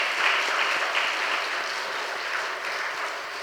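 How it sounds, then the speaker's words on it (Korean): Applause rises from a church congregation, including elementary-school children, at a Friday evening service: a steady, even wash of clapping from the crowd, sustained and moderately loud throughout with no talking. "우리 박수 한번 하겠습니다."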